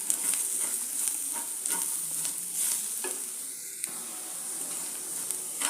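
Coriander powder and garam masala being sautéed in a pan for a potato masala, with soft sizzling and repeated scraping stir strokes, close and moderately quiet, no talking.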